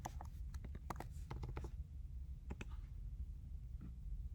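Light key clicks tap out a cue name on a lighting console, a quick cluster of presses followed by a few scattered taps, soft and close.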